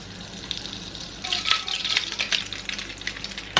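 Butter melts in a pan for Turkish çılbır eggs, giving a close, crackling sizzle that grows louder partway through and continues in bursts.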